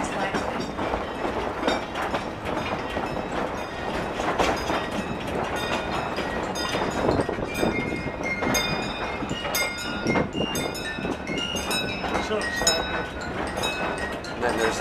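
An amusement park train rolls along its rails with a continuous rattle and clatter, while voices talk over the ride.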